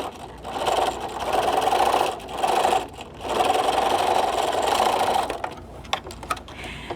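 A sewing machine stitches along the side of a zippered fabric pencil case, running in several steady bursts of rapid mechanical whirring separated by short pauses, close and clear with no talking.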